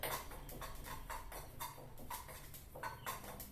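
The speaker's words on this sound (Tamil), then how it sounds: "இப்போ பாருங்க, நல்லா வெடிக்கிற சத்தம் கேட்குது பாருங்க." Spices dry roasting in a pan for a Tamil puli keerai kadaiyal, giving off irregular crackles and pops over a steady low background hiss, with no talking.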